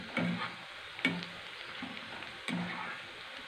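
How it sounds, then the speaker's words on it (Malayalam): Onions fry in oil over a medium flame, a soft, fairly quiet sizzle with three or four spatula scrapes and taps at irregular intervals. "അപ്പോൾ കരിയാതെ മീഡിയം ഫ്ലെയിമിൽ എണ്ണ ഇട്ടിട്ട് നമുക്ക് ഫ്രൈ ചെയ്തെടുക്കാം."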